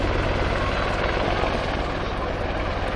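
A Boeing Apache attack helicopter performs a flying display at Dunsfold, producing a loud, dense, steady rotor and engine roar that fills the whole short stretch.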